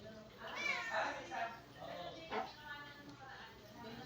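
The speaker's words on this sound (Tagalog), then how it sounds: "ito pa yung isang pusa na maingay oh" A cat meows repeatedly with drawn-out, wavering cries, faint and somewhat distant, over a noisy background with a hint of voices.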